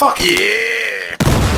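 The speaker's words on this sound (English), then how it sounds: "I blew up that wall not expecting it to disintegrate in front of me" A wall blown apart by an explosion in Battlefield Hardline: a sudden loud, broad blast and crumble near the end, after a sustained whining tone, with a man's brief exclamation just before it.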